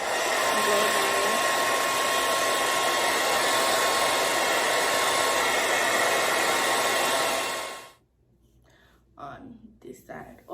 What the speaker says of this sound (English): So usually I'll take my blow dryer on cool.